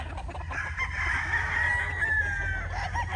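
A White Kelso gamecock, a straight-combed white rooster, crows once in a long drawn-out call, fairly close against a low rumbling background.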